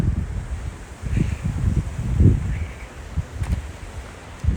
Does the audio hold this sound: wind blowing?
yes